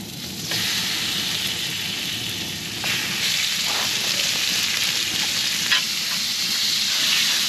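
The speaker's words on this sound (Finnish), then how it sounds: "Sitten aletaan paistaa lihoja." Meat sizzles loudly and continuously in a pan on a camp stove during a bikepacking trip. The frying is a dense crackle, with a few sharper spits and the stir of the meat.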